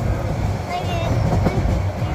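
A passenger train on the Chittagong to Cox's Bazar line rumbles steadily from inside a carriage, a loud continuous low roar with faint wheel clatter and some voices underneath.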